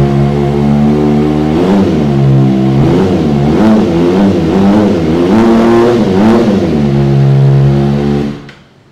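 A 250cc motorcycle exhaust revs repeatedly, engine pitch rising and falling in several loud bursts up close, then cutting off abruptly at the end.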